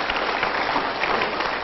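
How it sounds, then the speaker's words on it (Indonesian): A studio audience at a motivational talk show breaks into dense, steady applause, loud and even for the whole stretch with no talk over it. "Kita berikan tepuk tangan untuk pilihan Anda."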